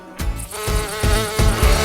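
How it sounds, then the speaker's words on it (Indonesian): Buzzing fly sound effect, a loud close insect drone pulsing in short rhythmic bursts for under two seconds. "itu Alvin kok jadi lalat"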